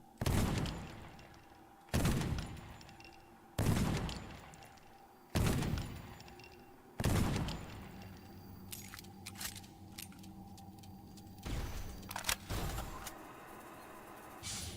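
Shotgun fire in the Dolls Nest video game: five loud, evenly spaced blasts about two seconds apart, each with a sharp crack and a decaying tail, followed by scattered clicks, clatter and smaller metallic hits.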